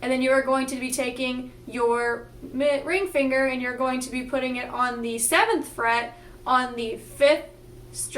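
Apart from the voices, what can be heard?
No distinct noise like a dog, phone or traffic.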